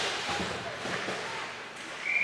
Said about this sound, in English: there's the whistle for the penalty